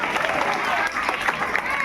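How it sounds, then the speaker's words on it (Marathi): A group of children claps loudly at a school National Science Day event, a dense, continuous patter of many hands mixed with crowd babble. "जोरात टाळ्या वाजवायच्या आहेत."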